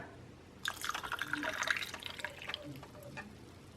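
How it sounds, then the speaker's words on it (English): Coffee splashes and trickles into milk in a container for about two seconds while making caramel iced coffee, then fades to soft drips and quiet handling sounds. "And then I'm going to add the coffee to the milk."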